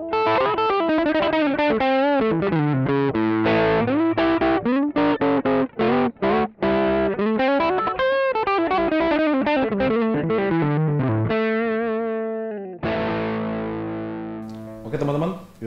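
Electric guitar played through a Laney Black Country Customs Steel Park pedal, loud and upfront, with driven, saturated chords and sustained notes. Short gaps break the playing before a final ringing chord.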